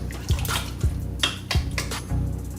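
Beef stock stirred into chili inside a Cosori pressure cooker, with a spoon knocking and scraping the pot in a steady rhythm and a wet sloshing underneath, close and fairly loud, without talk.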